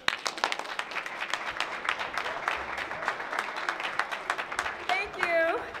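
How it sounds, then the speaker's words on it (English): An audience at an NAACP branch 65th anniversary celebration gives a hand clap, dense applause with sharp claps up close, and a brief voice comes in near the end. "Let us give her a hand clap."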